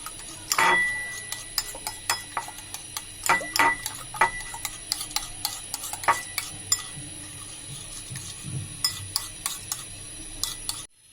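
Beef tikka kebab mixture beaten with egg in a bowl: a steady series of light, sharp ticking clinks of a utensil against the bowl, close and fairly quiet, over a faint background hum.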